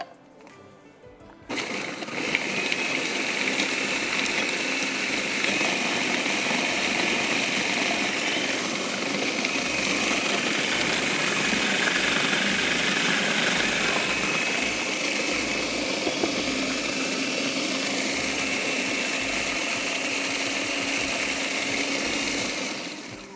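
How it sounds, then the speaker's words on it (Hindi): An electric mixer grinder whirs steadily for about twenty seconds, grinding red pesto ingredients such as crushed red chillies, then cuts off; the motor is loud and continuous, with no talking. "लेकिन पहले मैं इसको पीस लूँ"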